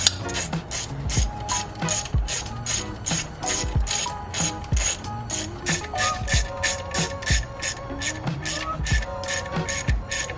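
A hand ratchet clicks rapidly and steadily while tightening bolts on a top mount intercooler being installed in a Mazdaspeed 3, the loud, close, regular pawl clicks running continuously without speech.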